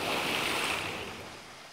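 Water splash as a log slides down a waterfall, a broad rushing wash that is loud at first and then slowly fades.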